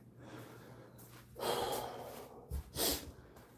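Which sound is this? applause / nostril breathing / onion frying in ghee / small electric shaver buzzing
nostril breathing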